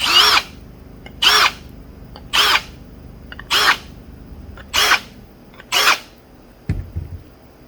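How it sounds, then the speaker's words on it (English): A deburring tool works the counterbores of a CNC-machined flat part in six short, sharp bursts evenly spaced about a second apart, loud and close, with quiet gaps between strokes. "quick deburr on those counter bores"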